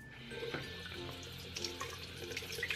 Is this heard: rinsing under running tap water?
yes